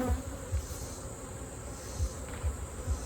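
Honeybees buzzing during a hive honey harvest, a close, continuous insect drone with a high whine, broken by several soft low thumps.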